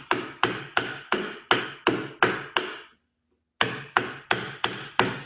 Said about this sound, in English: I need to define the end of my mortise over here with a good chop